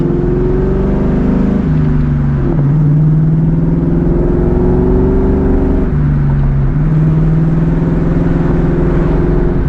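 Loud straight-piped 2004 Ford Mustang GT V8 during a night drive, a deep continuous droning exhaust rumble from inside the car that rises and falls with gear shifts.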